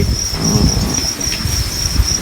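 Crickets on a Thai cricket farm chirp in a steady, high, continuous trill, with soft low rustling and knocks underneath.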